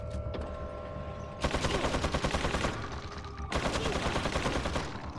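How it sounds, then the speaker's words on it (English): Two loud bursts of rapid automatic gunfire from the video game Resident Evil Village, each a dense rattling volley lasting over a second, separated by a brief pause with a faint tone beforehand. "Some of the bullets hitting,"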